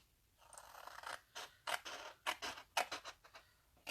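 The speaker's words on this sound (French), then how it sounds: "On va juste venir couper le long de la ligne de pli." Scissors cut cardboard along a fold line in a series of close, quiet crunching snips, about eight in an irregular rhythm, with no talking.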